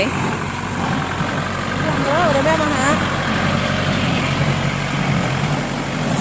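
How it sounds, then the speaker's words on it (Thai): A large Kubota tractor diesel engine powering a straw baler rumbles steadily nearby throughout while someone talks over it, with faint machinery whine in the background. "ใส่เครื่องรถไถด้วยจ้า นี่ค่ะพี่น้องจ้า ใส่เครื่องรถไถ"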